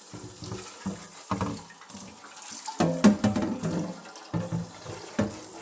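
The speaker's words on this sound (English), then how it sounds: "take some water and rinse out your pot" Water splashes and sloshes around inside a pot in close, uneven bursts, with light clattering as it is swirled.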